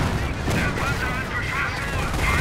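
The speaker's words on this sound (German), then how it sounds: "die Arti feuert trotzdem und die macht Schaden" Artillery fire in the Company of Heroes strategy game, a steady dense rumble of distant barrages and blasts running continuously through the short stretch at an even loudness.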